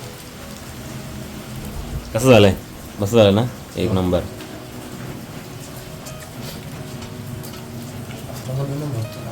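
Steady monsoon rain hisses in the background while several people chat loudly over it during an outdoor frying session.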